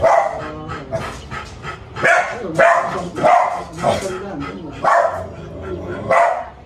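A dog barks in repeated short bursts at close range, mixed with people talking in Filipino during a conversation about vitamins for the dog.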